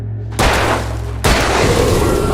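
Gunshots in the video game Alan Wake, two loud, heavy booming shots about a second apart, each followed by a ringing decay over a low hum.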